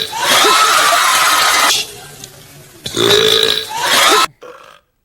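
A man forces a fake burp, a loud, croaky belch-like sound in two long bursts with a short tail, close to the microphone and with no talk over it.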